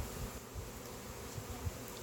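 Honeybees hum in a low, steady drone around a hive after the marked queen bee is released, faint and continuous with no voices.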